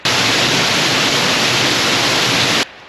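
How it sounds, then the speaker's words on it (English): Steady, dense rushing of a waterfall at Low Falls or High Falls fills the clip evenly, loud and constant, then cuts off abruptly near the end. "With a bit of luck, one of them might be able to get behind the back of the waterfall as well."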